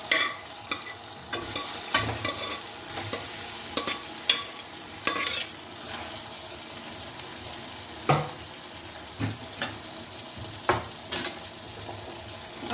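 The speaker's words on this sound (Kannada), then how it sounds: "ಇವಾಗ ಇದಕ್ಕೆ ನಾನು ಮಟನ್ ಬೇಯಿಸಿ ಇಟ್ಕೊಂಡಿದ್ನಲ್ಲ, ಅದನ್ನು ನೀರನ್ನ ಸಪ್ರೇಟ್ ಮಾಡಿ ಇಟ್ಕೊಂಡು ಬರೀ ಮಟನ್ ಪೀಸ್ ಮಾತ್ರ ಇದಕ್ಕೆ ಹಾಕೊತಾ ಇದ್ದೀನಿ" Boiled mutton pieces stirred into a tomato masala and frying in a pan, with a continuous soft sizzle broken by repeated clanks and scrapes of a spoon against the vessel.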